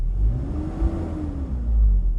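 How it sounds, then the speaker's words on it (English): A deep, steady engine roar from a 1995 Toyota Hilux with a low rumble and the whirring tone of a large viscous fan that rises and falls slightly, close by and continuous. "Can you hear that big viscous fan?"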